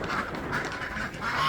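Farm birds kept in a greenhouse, with ducks or geese quacking and honking repeatedly in close, uneven bursts, moderately loud against a slight background hum.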